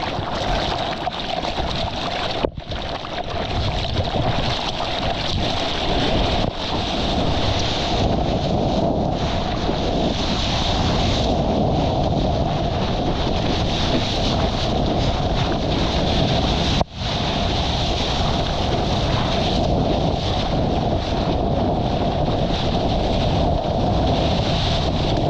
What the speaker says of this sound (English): Frothing, these waves are sick.